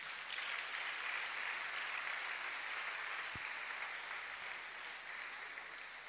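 Church congregation applauding steadily during a French-language sermon, a dense, even wash of clapping filling the room at moderate distance with no voices on top.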